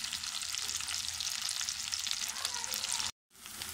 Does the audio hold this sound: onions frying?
yes